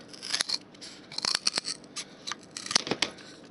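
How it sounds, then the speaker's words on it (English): Cardboard being cut with a blade tool, giving a close series of short, irregular crisp snips and tearing strokes, moderately quiet with no talk. "we're going to cut"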